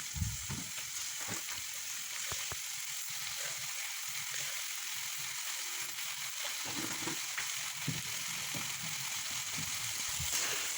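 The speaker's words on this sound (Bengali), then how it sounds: "এবারে চিনিটা যাতে গলে সেই জন্য আমি কিছুক্ষণ আবারও নেড়ে নেব।" Chicken curry with melted tomatoes and sugar is stirred in a pan, giving a steady soft sizzle with scattered scraping taps of the spoon, fairly quiet throughout.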